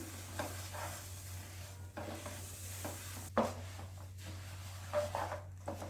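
Sesame seeds being stirred into hot jaggery syrup in a pan for sesame laddus: soft scraping stirs and faint sizzle recur every second or so over a steady low hum, fairly quiet and close.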